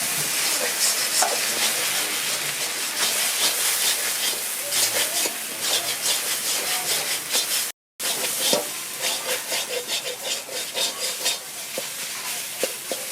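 Spice masala with turmeric and cumin powder being sautéed in a pan, a loud continuous sizzle broken by rhythmic spoon scrapes and stirring, with one brief dropout partway through.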